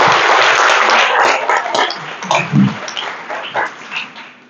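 Audience applause at a seminar on international logistics industry development, a dense burst of clapping that starts loud and gradually thins and fades over a few seconds.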